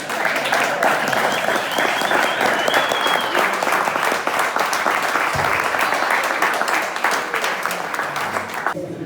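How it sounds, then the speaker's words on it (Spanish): A crowd at a medical talk applauding to welcome the presenters, loud continuous clapping from a large audience with a few faint voices mixed in, fading slightly at the end. "pido un fuerte aplauso para recibirlos"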